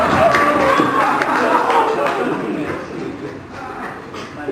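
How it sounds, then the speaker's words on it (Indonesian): An audience at a stand-up comedy show in Magelang responds with a dense wash of crowd noise that sounds like applause and cheering. It stays loud and steady for a few seconds and then fades slightly. "Tepuk tangan."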